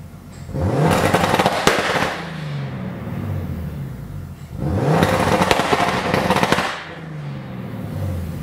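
A car's exhaust pops and crackles on launch control set up with a MegaSquirt engine computer, two loud bursts of rapid popping with engine roar, each lasting over a second, separated by quieter idling.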